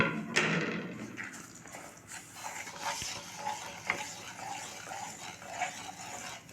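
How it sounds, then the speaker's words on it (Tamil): Semolina roasts in ghee in a pan and is stirred with a series of soft scraping strokes, while a faint sizzle sits beneath them at low volume. "நம்ம எடுத்து வச்சுருக்க ரவையை அதில் போட்டு பொன்னிறமாக வறுத்துக்கலாம்."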